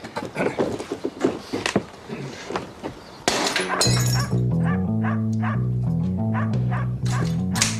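A dog barks repeatedly from the back of a house, sharp yips and bow-wows at first, then louder barking over a sustained musical score.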